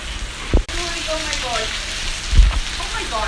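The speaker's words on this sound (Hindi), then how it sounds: "बहुत ज़्यादा तेज़ बारिश हो रही है" Dense, steady hiss of heavy rain pouring down continuously in Murree, Pakistan, with a couple of brief thumps and faint voices underneath.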